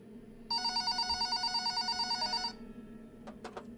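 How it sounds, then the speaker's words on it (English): A telephone on a counter rings with a bright, warbling electronic trill lasting about two seconds, loud and close, followed by a few faint clicks in a quiet room. "the phone on the counter rang"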